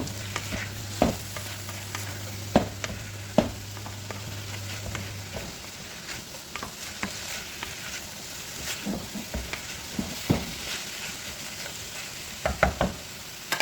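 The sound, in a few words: carrots stir-fried with chicken masala in a pan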